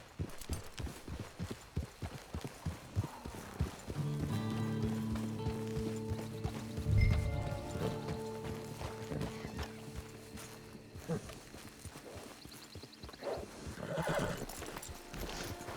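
Hooves clip-clop rhythmically, then a horse neighs and snorts loudly close by, followed by more hoofbeats and another whinny, in the video game Red Dead Online.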